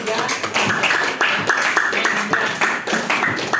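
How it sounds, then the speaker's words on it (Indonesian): A small group claps in a quick, fairly regular rhythm during a math tutoring session, sharp distinct hand claps close by with a voice briefly mixed in. "tepuk tangan untuk Gojam ya"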